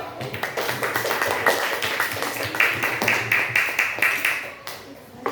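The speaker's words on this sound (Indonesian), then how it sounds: "Tepuk tangan dulu" Classroom students clapping for a group presentation: a steady run of fairly close, crisp claps lasting several seconds, with faint voices beneath.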